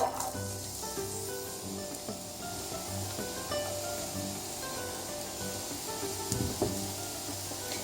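Diced onions sizzle steadily in hot oil, a close, continuous crackling hiss with occasional scraping stirs and no talking.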